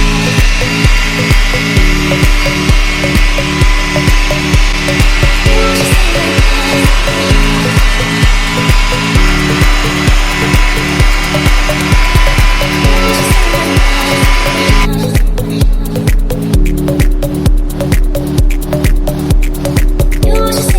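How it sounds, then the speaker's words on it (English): A 3-inch rotary polisher with a wool pad and heavy cutting compound runs steadily on car headlights, its motor whirring with a rhythmic, repeating pulse as the pad works the surface; no talking. "we're going to use a 3-inch rotary with a wool pad and a heavy cutting compound"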